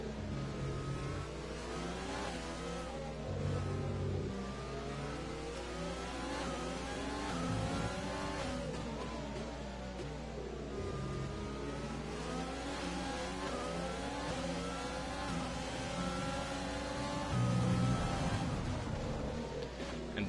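Formula 1 race cars at Interlagos in a Formula 1 video game, high-pitched engines revving and shifting continuously with rising and falling whines as several cars run close together, steady and loud throughout.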